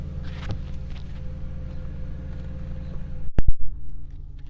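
A Porsche Cayenne V8 engine rumbles steadily at idle, deep and continuous, with a brief louder burst near the end like a quick throttle blip.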